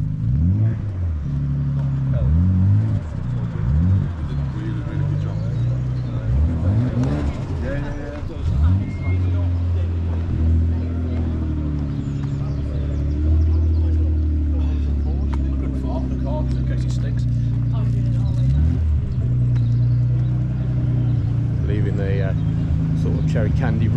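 A Nissan 300ZX rolls into a JDM car show at Santa Pod, a low engine rumble with rising and falling revs amid other idling cars, and people talking nearby.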